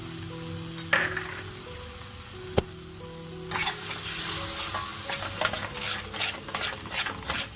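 Curry with cashew paste and tomato being stirred in a pan: a few sharp spoon knocks against metal, then a louder stretch of scraping and clinking strokes over a constant frying sizzle, up close.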